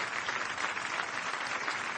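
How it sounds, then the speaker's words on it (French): Steady audience applause for singers at a live concert, an even wash of many hands clapping throughout, fairly distant and without a break. "on les applaudit encore"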